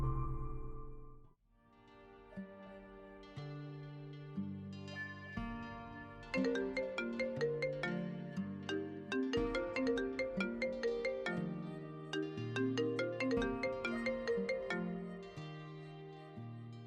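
A phone rings with an incoming call, playing a bright, melodic ringtone that repeats its tune clearly and alone after a brief quiet start.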